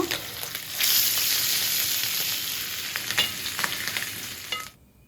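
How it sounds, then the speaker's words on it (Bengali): Loud, continuous sizzling of fish frying in a hot pan, with occasional stirring sounds, fading out at the end. "মাছগুলো ভাজা হোক"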